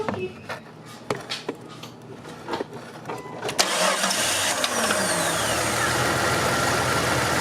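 A Jeep XJ engine cranks, catches and starts after the oil pressure is restored, then settles into a steady, loud idle that runs without a break to the end. Scattered clanks and clicks come before the start.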